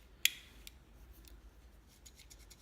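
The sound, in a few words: multitool scissors opening and closing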